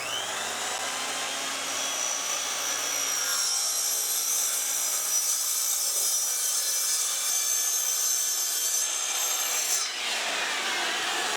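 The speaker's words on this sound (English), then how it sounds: "So I'll attempt a little bit of a plunge cut starting here at the corner." A saw plunge-cuts through a laminate countertop sheet for a vintage Shasta camper trailer, making a continuous, close, rasping whine that holds steady for the whole stretch and fades near the end.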